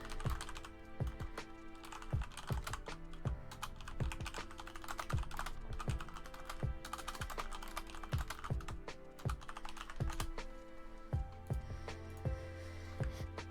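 Steady, close typing on a computer keyboard: a long run of crisp, irregular key clicks with brief pauses, moderately quiet and with no talking.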